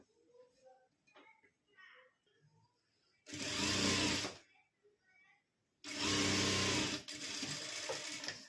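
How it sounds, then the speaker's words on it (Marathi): Sewing machine running in two bursts while stitching the seam of a puff sleeve, loud and close, with quieter handling sounds between runs. "तर चला आता ही टीप मारून घेऊया"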